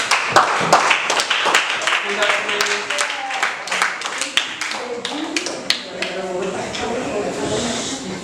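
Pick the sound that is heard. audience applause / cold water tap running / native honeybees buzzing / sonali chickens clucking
audience applause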